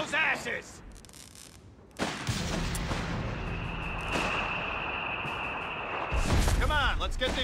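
Heavy gunfire and artillery-like blasts from the World War II strategy game Company of Heroes 3, a dense continuous barrage filling the scene with a sharp burst near the start and a louder swell near the end, with shouted voices mixed in.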